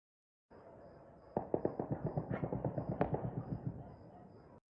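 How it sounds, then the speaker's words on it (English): Rapid bursts of distant celebratory gunfire and fireworks over Kabul at night crackle in quick succession for a few seconds, a steady rattling string of sharp reports against faint background hum. "celebratory gunfire and fireworks lit up the Kabul night sky"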